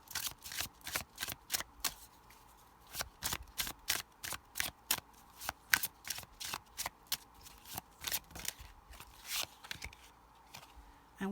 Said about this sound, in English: Let's get one more card from this deck.